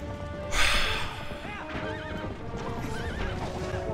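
A horse-drawn coach circles in a video game: a horse whinnies loudly near the start, then steady clip-clop hoofbeats and rolling noise continue under game music and effects.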